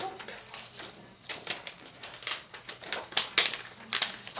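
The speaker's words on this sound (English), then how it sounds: "So I'm peeling it, and I'm holding the corners just a little bit." Protective backing film is peeled off an iPad screen protector, giving scattered crinkling and soft ticking crackles that grow a little louder toward the end, close up.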